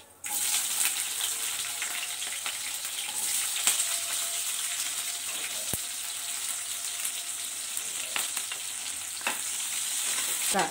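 Onions frying in oil with tempered mustard seeds, cumin and chana dal, a continuous close sizzle with occasional stirring clicks and scrapes across the whole stretch.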